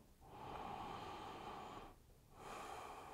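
Deep, deliberate breathing during a guided relaxation exercise: a long, airy inhale, a short pause, then another slow breath, close and soft with no talking.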